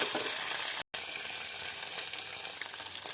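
Chili pieces hit hot oil for a chicken liver curry, giving a steady, dense sizzle and frying hiss close by, broken by a very brief dropout, with no voices.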